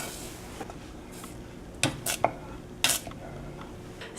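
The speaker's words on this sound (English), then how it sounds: "then we're going to take that spoon and stir it around" A spoon stirs oatmeal with bananas in a pot, making a few scattered clinks and scrapes against the pot at close range over quiet background noise.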